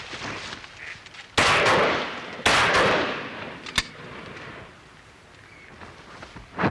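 Shotgun blasts during an outdoor duck shoot: two loud booming shots a second apart, each with a long rolling decay, then a sharper distant crack, with quiet open-air ambience between.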